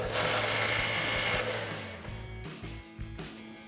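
Pneumatic impact wrench with a 21mm socket tightening a tie rod nut on a RAM 1500 suspension lift install, a loud continuous buzzing burst that winds down into shorter rattling pulses.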